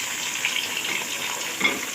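Beef frying with browned onions in a pan gives a steady, close hiss and crackle of sizzling, with a faint stir or scrape partway through.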